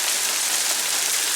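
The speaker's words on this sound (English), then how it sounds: "Oh, the rain. In fact, it's hail now." Rain mixed with hail falls steadily outside, a dense, even hiss of pattering impacts with no pauses and no voices.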